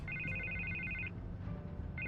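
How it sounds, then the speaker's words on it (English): A telephone ringing in Batman: The Telltale Series, an electronic trill heard in one long ring, then a pause and the start of another, clear over a low background hum. "I can't get the phone to stop ringing."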